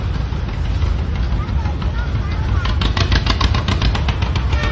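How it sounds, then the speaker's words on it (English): A 1949 John Deere G tractor with a wide front end runs in a parade, its engine a loud, steady rumble with rapid popping exhaust pulses growing stronger toward the end, under outdoor noise and voices. "his 1949 G John Deere with the wide front end"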